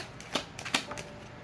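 Tarot cards being shuffled and drawn during a reading: a few quick, crisp card snaps and soft slides close by in a quiet room.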